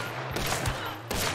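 Gunfire in a shooter video game: a burst of rapid shots close and loud, with sharp transients near the middle and another blast toward the end, under a steady game background.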